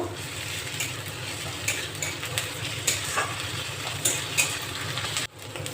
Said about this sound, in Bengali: এবার এতে দিয়ে দেব 1 চামচ রসুন বাটা, 1 চামচ আদা বাটা। নেড়ে নেব।